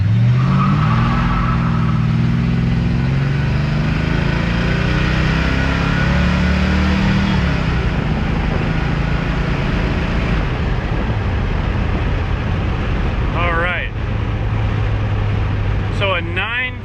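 A stock El Camino launches hard from a standstill toward 60 mph, its engine droning loudly and steadily throughout, with a voice breaking in briefly near the end.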